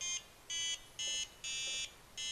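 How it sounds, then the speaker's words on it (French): Makeblock Neuron buzzer block from the Neuron Inventor Kit, powered with a Funny Touch block, giving five clear electronic beeps, each held about a quarter to half a second with short gaps, steady and fairly faint. "Les blocs utilisés sont l'alimentation, le Funny Touch et le buzzer."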